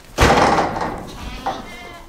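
Farm goats in a barn swarming for food give a loud close bleat, then a second fainter bleat a moment later, with a thump and barn noise around them.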